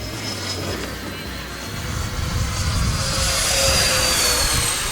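Simulated F-14 Tomcat jet in a flight simulator, a steady broadband jet roar that swells louder toward the end as it comes in to land, with a thin whine riding on top and no talking.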